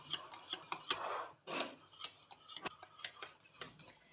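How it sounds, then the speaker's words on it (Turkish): Wire whisk stirring melting margarine and vanilla in a pot, a quick run of sharp metallic ticks and clicks against the pot's side in an uneven steady rhythm, close and fairly clear, with no talking. "margarinimiz ve vanilyamız karışana kadar böyle sürekli tel çırpacağımla karıştırıyorum"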